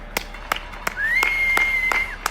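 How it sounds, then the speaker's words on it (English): Several sharp hand claps ring out at a steady pace, close by, while a thin whistled note holds for about a second in the middle. "So I'm going to put you down for a second and just clap."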